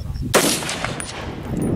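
One sharp, loud rifle shot at an outdoor target range, a close crack with a short echoing tail, after a brief quiet moment.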